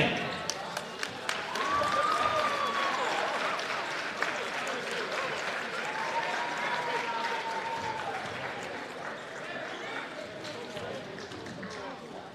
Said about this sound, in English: Let's give another round of applause for Citizens Bank